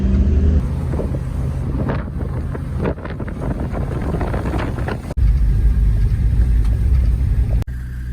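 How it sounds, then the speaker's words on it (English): A car drives along a road through Puntarenas, Costa Rica, giving a steady, loud road rumble mixed with heavy wind buffeting throughout, and a brief dropout near the end. "Just driving through Puntarenas now, back to Route 1."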